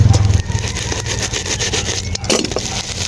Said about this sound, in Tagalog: Sobrang maingay dito sa amin guys kasi nasa tabing kalsada lang ako guys.